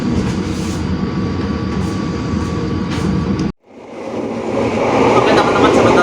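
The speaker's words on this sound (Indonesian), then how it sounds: "sebentar lagi kereta api komuter lain Sindro akan tiba di tujuan akhir saya, stasiun Surabaya" Sindro commuter train in Indonesia, an emergency trainset, rumbles along the rails with a steady loud interior roar; a sharp cut drops it briefly before the running noise builds back up, louder and brighter.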